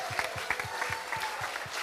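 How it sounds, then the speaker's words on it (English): A congregation at Friday night Shabbat services claps in a round of applause, moderately loud and steady with a few prominent individual claps spaced regularly through the brief burst. "So give them a big round of applause"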